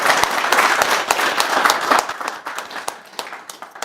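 A snooker club crowd gives a warm round of applause at a tournament final, dense clapping from many hands that holds steady and then thins out into scattered claps.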